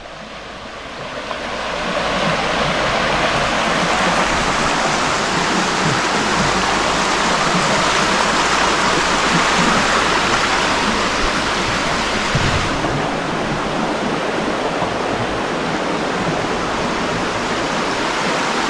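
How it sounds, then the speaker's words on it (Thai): Steady, full rush of a forest stream, continuous and fairly loud, like water running over rocks, with no voices. "ลำธารในป่านะคะ"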